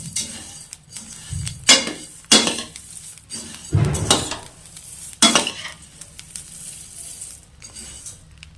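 Spices dry-roasting for fish masala crackle and sizzle in a hot pan, with repeated bursts of scraping and stirring against the metal, close and fairly loud, no talking.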